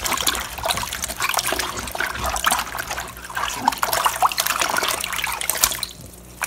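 Mustard greens being rinsed by hand in a basin of water, a steady close trickle and splashing with soft sloshes throughout, no talking.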